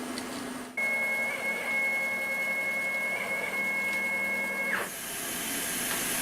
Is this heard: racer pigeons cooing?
no